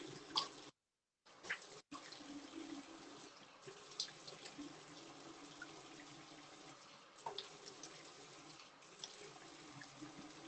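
Tap water runs into a sink while a face mask is rinsed off, a faint continuous hiss of flowing water with a short break near the start and small splashes throughout.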